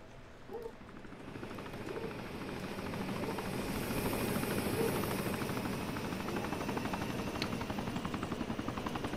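A helicopter in the military video game Arma 3, its rotor thump swelling from a distance into a loud, steady, rhythmic chop that stays close and continuous.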